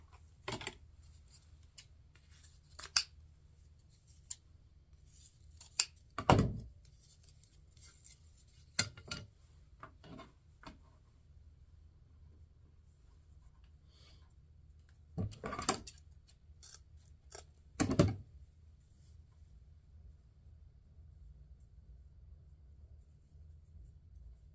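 Scissors snip through 10-inch patriotic mesh ribbon while a bow is made for a welcome sign: a handful of short, crisp cuts spaced irregularly across a quiet stretch, close by, with no talking.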